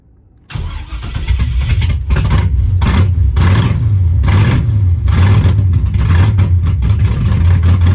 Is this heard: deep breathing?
no